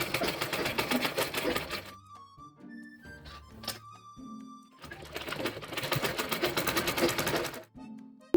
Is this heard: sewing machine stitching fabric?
yes